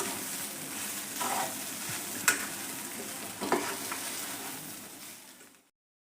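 Kanda poha with salt and sugar is stirred and sautéed in a pan, a steady low sizzle broken by a few sharp spoon scrapes and clinks, then cutting to silence near the end.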